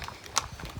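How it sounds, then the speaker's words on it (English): Horses walk along a hiking trail, their hooves giving soft, irregular clip-clops over less than a second, fairly quiet and close. "I got to follow with the horses."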